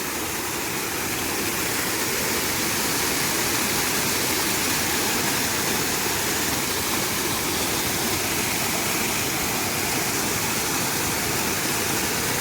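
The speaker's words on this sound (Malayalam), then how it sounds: "ഈ സാധുക്കളായിട്ടുള്ള വീട്ടുകാരെ എല്ലാവരുടെയും മുറ്റത്താണ് ഈ വെള്ളം വന്നുകൊണ്ടിരിക്കുന്നത്." Floodwater from a national highway at Velimukku Palakkal pours into the yards of houses, a steady, loud, close rushing roar like a torrent that runs unbroken throughout, with no voices.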